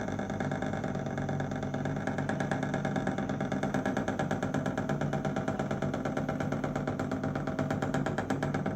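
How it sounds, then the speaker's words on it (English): A beefy motor running on wireless power from a transmitter, a steady close mechanical whir with rapid rhythmic pulsing that holds even throughout. "We're at less than 5 watts transmitter power, and we're running a motor"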